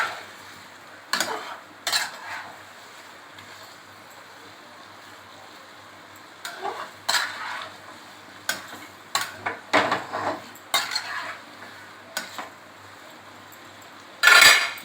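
Chicken with black pepper being stir-fried in a pan: quiet low sizzle underneath while a utensil scrapes and clinks against the pan in scattered bursts, ending with a louder scrape, close and without talk.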